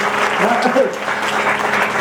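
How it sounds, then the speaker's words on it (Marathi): Audience claps steadily through a Bhagavat katha religious discourse, a dense, continuous wave of applause from a gathered crowd, loud and close, with faint voices mixed beneath the clapping. "त्याच्याबद्दल सुद्धा टाळ्या वाजवा सगळ्यांनी."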